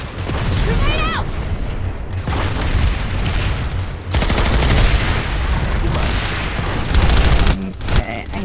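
A grenade blast in a video game, heavy booms landing amid continuous gunfire and chaotic battle noise, loud and dense, with a voice calling out at the start.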